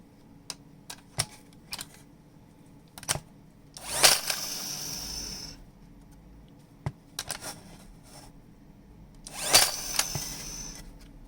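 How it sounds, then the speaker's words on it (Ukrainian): A Craftsman CMCN618 18V cordless nailer cycling in a workshop, with several sharp, isolated clicks and snaps, then two longer whirring bursts as the drive mechanism runs, close up and with no one talking. "Пістолет працює, проблема, що він десь ставав бити. Так, покажу, як він працює."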